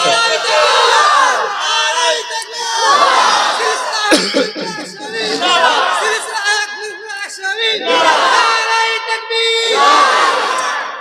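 A crowd at an Islamic religious sermon gathering shouts takbir in loud, repeated collective bursts, with a lead voice calling and many voices answering together in waves, mixed with chatter and coughs.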